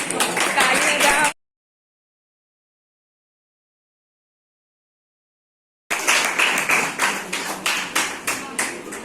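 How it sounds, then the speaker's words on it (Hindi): A Teacher's Day audience claps in short bursts, a rapid patter of many hands before a silent gap, then a second louder round of applause with rhythmic peaks. "ताली बजाओ।"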